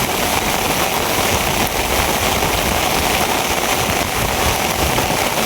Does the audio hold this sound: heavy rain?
yes